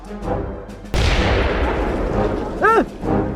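A bomb explosion in a PUBG Mobile game goes off as a sudden, loud boom that rumbles and fades over a couple of seconds, followed by brief game sounds and voices nearby.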